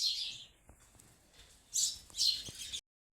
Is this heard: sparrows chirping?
yes